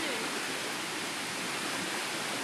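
Rushing whitewater of a creek swollen during Hurricane Irene, a steady, dense roar of churning water that fills the whole stretch without letup, close by and fairly loud.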